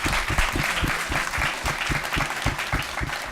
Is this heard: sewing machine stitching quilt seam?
no